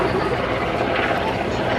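A helicopter performing a display at the 2013 Waddington Air Show, its steady, loud rotor and engine roar filling the air continuously without letting up.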